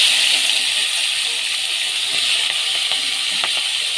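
Potato pieces and onion stalks, rubbed with salt and turmeric, fry in oil with a steady, bright hiss that stays even throughout, with faint crackles and light clicks underneath.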